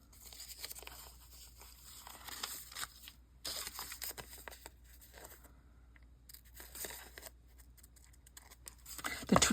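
Scissors cut paper in an art journal, giving soft, close snips and rustles in irregular clusters with quiet gaps between them, and no talking.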